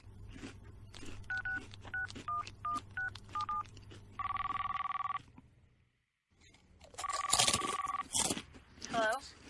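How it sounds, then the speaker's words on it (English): A telephone is dialed with a quick run of touch-tone beeps, then a steady electronic ring tone sounds twice, with people talking over a low hum during a Christmas radio-style comedy show. "I guess I'll call Pamela's phone."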